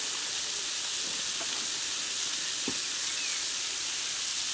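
Sticky chicken stir fry sizzles in a Vonshef electric pan, a steady broad hiss of frying that runs unbroken and fairly quiet, with a couple of faint clinks partway through and no talking.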